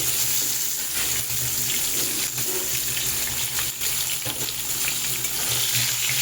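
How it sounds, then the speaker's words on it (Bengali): Slices of pointed gourd (potol) frying in hot oil in a village kitchen, giving a steady, dense sizzle that stays close and fairly loud throughout, with no talking. "তেলটা গরম হয়ে গেছে এবার আমি পটলগুলোকে একে একে তেলের মধ্যে ছেড়ে দিই"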